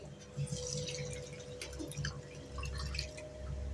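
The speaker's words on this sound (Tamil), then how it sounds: "6 டம்ளர் தண்ணி ஊற்றிக்கலாம்." Water measured out by the tumbler and poured into a pot for mutton biryani, six tumblers in all together with the mutton stock, heard as a faint, quiet trickle and drip against a low background hum.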